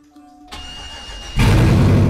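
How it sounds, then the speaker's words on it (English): A school bus engine running with its catalytic converter sawed off: a low rumble that suddenly jumps into a loud, harsh, unmuffled roar partway through, heard close and with no talk. "the sound of a missing catalytic converter."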